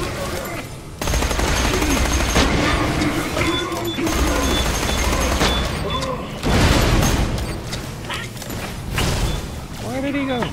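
Rapid gunfire from a Torque gun in Borderlands, a Claptrap fighting Shadowtrap, loud dense bursts of shots with booms and crashes running through most of the stretch, under game music and effects.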